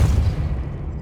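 A Depulso spell blast fires in Hogwarts Legacy, a single heavy low boom that swells at once and rumbles out over about a second, loud and close with no talking.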